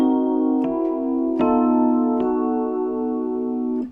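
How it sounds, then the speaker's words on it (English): Sustained closed-voiced chords of the Tristan progression starting on C, several rich harmonic blocks changing about every second with soft attacks, played alone with no talking. "let's take the Tristan chord, or rather the Tristan progression, through some exercises"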